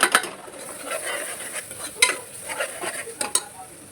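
Tomatoes tipped into sizzling masala for khichdi and stirred in a pot, with clattering spoon scrapes and taps over a steady close frying hiss.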